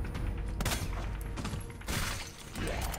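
Guns fire in Resident Evil 2, a dense, loud run of close shots in quick succession over a busy game mix, with no talk over it.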